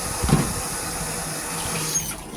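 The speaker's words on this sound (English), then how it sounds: "Oh, my cold water's still on a little bit." Cold water runs steadily from a kitchen tap into the sink, a close, continuous hiss and splash with a brief louder gurgle near the start.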